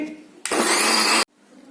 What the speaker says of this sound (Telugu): తర్వాత మనం మిక్సీ వేస్తున్నాము